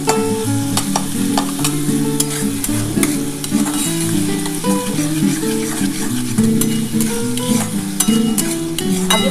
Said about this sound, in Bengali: আগে প্রথমে এটা একটু হালকা করে ভাজা হলে তার মধ্যে আমি বাঁধাকপি আর গাজরটা দিয়ে দেবো।